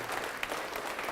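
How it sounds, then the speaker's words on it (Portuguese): A church congregation claps during a sermon, a brief, dense burst of many hands applauding at even volume, sharp individual claps popping through the steady patter. "Vamos aplaudir mais."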